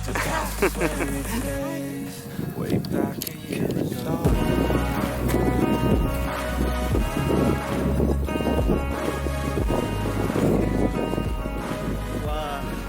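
Wind gusts outdoors on a spring outing, rumbling steadily against the microphone throughout, with people talking and some background music over it.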